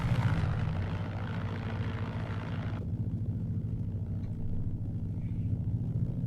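A DHC-2 Beaver propeller aircraft taxis toward a distant runway, its engine drone steady and loud with a low throbbing propeller beat, heard from close by and without speech.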